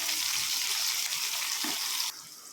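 Onions frying in a pan for a tomato curry make a dense, steady hiss, close and fairly loud, which drops sharply in level near the end.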